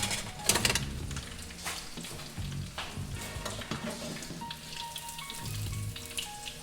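Chicken katsu sizzling in hot frying oil just after being flipped, a steady close crackle and spatter with occasional louder pops and faint kitchen clatter.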